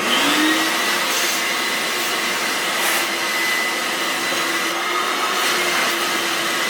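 A small vacuum cleaner running steadily at close range, a constant whining hum with an airy rush, no talk over it.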